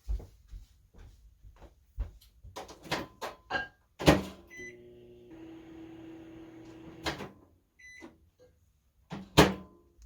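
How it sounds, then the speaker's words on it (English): Microwave oven heating a strip of tape for a DIY craft: door clunks and clicks, a beep, a few seconds of steady humming run, then another beep and the door opening. "I'm gonna put it in the microwave."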